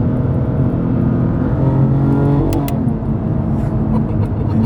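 A Dodge Viper makes a brief acceleration pull, its engine a loud, steady close-up roar inside the car that rises slightly and then eases, with no talking.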